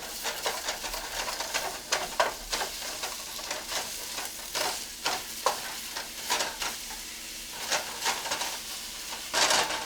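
Sausage fries in a pan with a soft continuous sizzle, broken by repeated scraping and stirring sounds at an uneven rhythm, close and moderately quiet.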